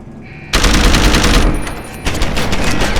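Rapid automatic gunfire from a video game weapon, a dense loud burst that stops briefly and then resumes.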